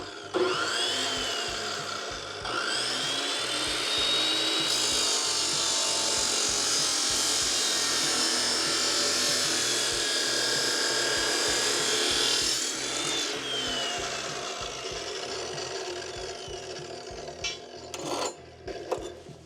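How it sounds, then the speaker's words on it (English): A Kobalt 14-inch chop saw grinds loudly and steadily through metal for several seconds, its harsh whine trailing off as the blade spins down, followed by faint clatter. "All right, first cut."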